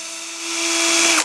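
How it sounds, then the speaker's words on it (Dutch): A power drill pre-drills a 4 mm pilot hole for a 4 mm screw in a wooden joint, a steady whirring whine that rises slightly in pitch over about a second before cutting off abruptly, close and alone. "De volgende oplossing is voorboren."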